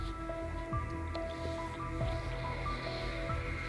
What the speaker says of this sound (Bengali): আমি রুটিগুলোকে, যে দুধ আর ডিম গুলিয়ে রেখেছিলাম, ভালো করে ডুবিয়ে ডুবিয়ে হাত দিয়ে চেপে চেপে